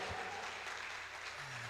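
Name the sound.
church congregation applauding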